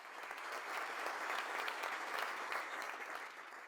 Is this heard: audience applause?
yes